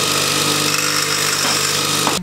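Power drill boring holes in stainless steel, a loud, steady whining drone with a grinding edge that runs continuously and then cuts off abruptly at the end.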